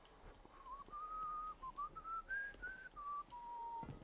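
Soft whistling of a lower, wavering melody made of held notes that drift up and down with brief breaks, quiet and close against a faint background hiss.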